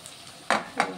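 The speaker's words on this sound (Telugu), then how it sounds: "వంకాయ మిల్ మేకర్ అయితే మంచిగా ఫ్రై అయిపోతున్నాయి" Brinjal and meal maker pieces frying in a curry pan, a soft low sizzle broken by two or three louder scraping stirs of a spoon through the pan, close up and without talk.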